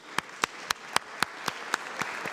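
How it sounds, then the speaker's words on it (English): A few people applaud for a family and friends during a legislative floor session, giving sparse, evenly spaced claps at a moderate distance with no talk. "so if we can give her family and friends a round of applause, I'd appreciate that."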